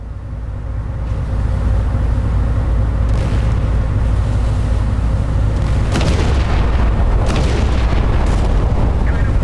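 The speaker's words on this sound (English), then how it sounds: "I think we're actually firing at the right ship now" Naval gunfire from warships in the MicroProse game Battleship Command: a heavy, continuous low rumble punctuated by several loud booming blasts, with no talking.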